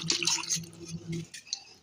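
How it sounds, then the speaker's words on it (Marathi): Half a kilo of lemons are washed in water for pickle, with short wet splashes and drips close by that fade out after about a second. "आता हे पाण्यामध्ये धुवून टाकणे, मस्त पुसून घेणे."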